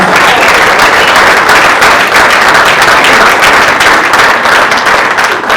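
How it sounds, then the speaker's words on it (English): A large crowd applauds loudly and steadily, dense clapping filling the whole stretch without a break. "one more wow applause to Daniel Gomez."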